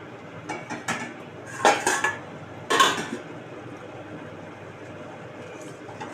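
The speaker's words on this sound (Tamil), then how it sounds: "பால் நல்லா காய்ச்சி ஆற வச்சு எடுத்திருக்கேன் அதை ஆட் பண்ணிக்கலாம்" Boiled, cooled milk is stirred into a sweet jaggery mixture in a pot, with a spoon clinking and scraping against the metal in uneven bursts, loudest around the middle, then quieter stirring.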